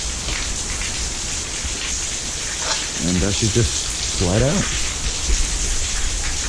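Heavy rain pouring steadily outdoors beside someone working on a car mirror, a dense constant hiss on surfaces, with someone speaking briefly over it.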